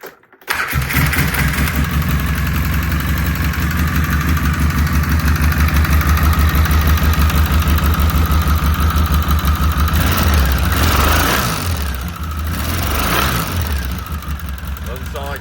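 A 2005 Polaris Sportsman 700 ATV engine with 3,400 miles, showing a noise fault, catches and runs at a loud, steady idle close by, with a low rumble and rattling overtones that dip and surge slightly near the end.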